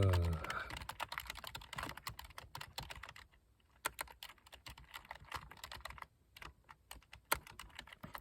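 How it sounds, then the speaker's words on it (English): Brisk typing on a computer keyboard, close and fairly quiet, with uneven bursts of clicking keys, a couple of short pauses and an occasional louder key strike. "Let me type it up."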